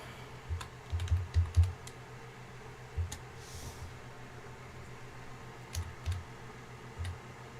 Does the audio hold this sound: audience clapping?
no